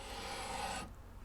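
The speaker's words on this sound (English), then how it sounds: "with the double cut file on a wooden handle, create a little fall away if needed over the fretboard extension, and get rid of that neck to body joint hump" A double cut file on a wooden handle rasps steadily across the wood of a guitar fretboard extension on a 1956 Gibson ES-125, one continuous close stroke that stops abruptly near the end.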